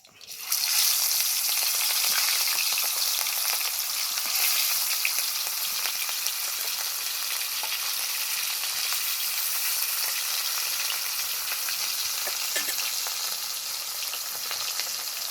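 Fish pieces fry in hot oil for a Bengali wedding-style fish kalia, giving a loud, steady, close sizzle that runs unbroken throughout with no talking.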